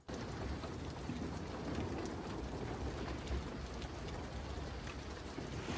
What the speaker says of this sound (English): It is raining, chat. You guys hear this, bro?